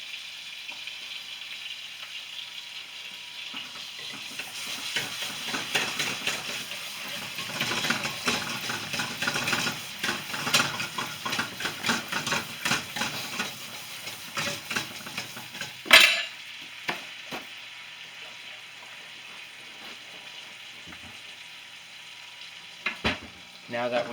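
Steak sears in butter in a pan with a loud, busy sizzle and sputtering while it is basted, and a metal utensil clinks against the pan. The frying fades toward the end, leaving a quieter hiss and a few clatters.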